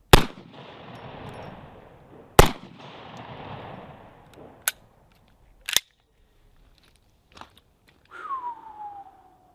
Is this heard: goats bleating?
no